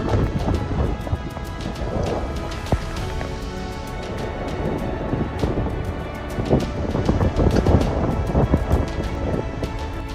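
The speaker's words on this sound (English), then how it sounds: "Hurricane Milton topples a crane in St. Petersburg." Hurricane Milton lashing St. Petersburg with steady roaring wind and heavy rain, thunder rumbling throughout and loud gusts swelling near the end, with no voices.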